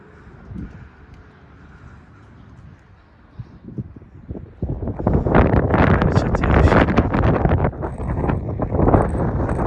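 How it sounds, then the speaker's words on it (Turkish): Strong wind buffets the microphone, starting moderate and then surging into loud, sustained gusts that roar for the rest of the clip, outdoors where birds are being flown. "Yani o kadar aşırı rüzgar var ki."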